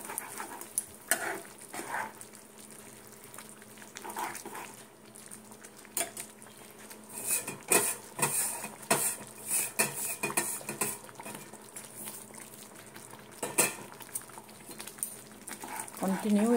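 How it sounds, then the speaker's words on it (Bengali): Semolina upma being stirred in a pan on a low gas flame: a utensil scrapes and clinks against the pan in irregular close-up strokes over a light background hiss. "সুজিটা দিয়ে সঙ্গে সঙ্গে গ্যাসটা কমাবে, সঙ্গে সঙ্গে এইভাবে নাড়তে হবে।"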